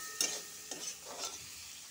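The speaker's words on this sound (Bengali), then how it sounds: "টমেটো এটার সাথে ভাজবো ভালো করে" Onion and tomato fry in a pan, heard as three faint spatula scrapes and stirs over a quiet, low sizzle, with no talking.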